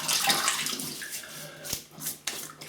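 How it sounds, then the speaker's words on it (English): Water splashing and trickling as a face is wetted at a basin before a wet shave with a Rockwell 6S safety razor, close and steady with a few sharper splashes, no voices. "I've just wet my face."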